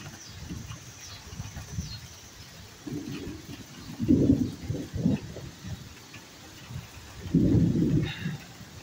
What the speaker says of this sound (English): I always love it right when it rains.